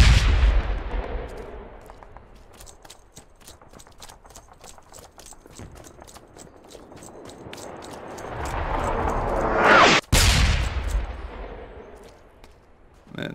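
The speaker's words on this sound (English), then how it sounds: "these guys are dropping mortars like on me" Mortar rounds landing in the World War II shooter Hell Let Loose, a big close blast at the start, a distant rumbling impact building later and a sharp nearby explosion near the end, over a background of scattered rifle shots.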